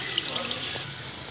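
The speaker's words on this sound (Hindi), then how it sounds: "ये जो हमने चने उबाले थे वही पानी हम ऐड करेंगे" Water that chickpeas were boiled in is poured into a pot of chicken pulao, a steady close splash and trickle lasting over a second, fairly loud and continuous.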